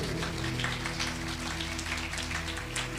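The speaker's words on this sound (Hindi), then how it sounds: "आइए जोर दे नाल ताली बजावांगे प्रभु दे लई।" A church congregation claps loudly and continuously during worship, a dense wash of hands under steady music.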